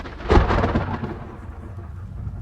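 A crack and rolling rumble of stage thunder from a theatrical storm in a production of The Secret Garden, loud at first and then fading into a low sustained rumble, with no talking over it.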